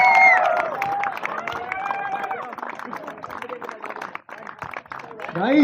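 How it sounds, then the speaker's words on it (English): A crowd at a prize distribution event claps and cheers in a lively, uneven burst with babble of voices mixed in, fading somewhat in the middle before swelling again at the end. "A huge round of applause, guys."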